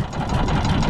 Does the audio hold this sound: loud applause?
no